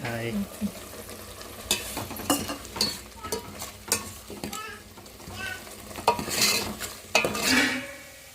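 Chicken curry cooked with tomato and ginger pastes, chilli powder, salt and turmeric being stirred in a pan, a steady low sizzle broken by repeated scraping and clinking strokes of a spoon against the metal, close and fairly loud.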